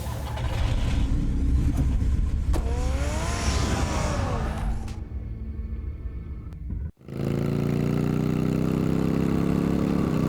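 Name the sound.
car engine in a Batman video game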